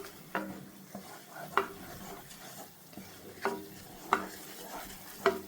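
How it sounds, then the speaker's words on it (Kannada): Ridge gourd fries in a pan with black pepper and chili powder, a low steady sizzle broken by regular scrapes and knocks of a spatula stirring against the pan. "ಸ್ವಲ್ಪ ಕಾಳು ಮೆಣಸು ಪುಡಿ ಇಷ್ಟನ್ನು ಹಾಕ್ಕೊಂಡು ಸ್ವಲ್ಪ ಇದನ್ನು ಫ್ರೈ ಮಾಡ್ಕೊಳ್ಳೋಣ"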